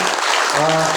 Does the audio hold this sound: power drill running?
no